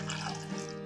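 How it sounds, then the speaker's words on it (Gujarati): Water poured over potatoes in a pot for Gujarati suki bhaji: a brief, faint, steady splashing rush over a low background hum. "હવે બટેટા અડધા ડૂબે તેટલું પાણી લઈએ."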